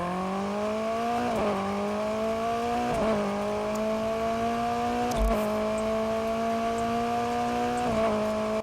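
A Peugeot car engine in a video game hums at a steady, tonal idle-like drone, with a few brief blips and small revs shifting the pitch slightly, close and clear with no talk.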